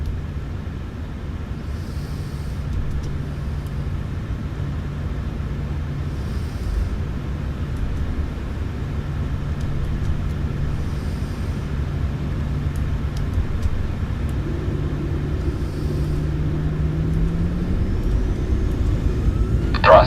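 Aircraft engines spool up on the takeoff roll from runway 32 left at Omaha, a steady droning hum with a tone that climbs in pitch as thrust builds, constant and moderately loud.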